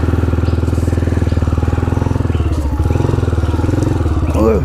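An off-road motorcycle ridden on a forest trail in the Margalla Hills, its engine thumping in a fast, steady rhythm close by, briefly easing off before pulling again.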